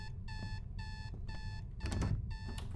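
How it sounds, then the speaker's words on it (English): An alarm clock rings in the horror video game Is Simon There?, with four loud, evenly spaced bursts of rapid electronic beeping close by. A thud and some rustling fall between the last two bursts, and no one speaks. "Gasimo alarm. Wow. Zašto mi je alarm tako visoko?"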